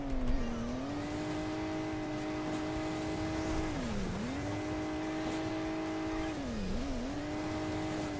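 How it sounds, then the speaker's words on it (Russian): Red Ferrari engine from the mobile game Hill Climb Racing 2 drones steadily at a constant rev, dipping twice in pitch as the throttle lifts and returns, loud and close with no talking over it. "поеду на своей красной Феррари"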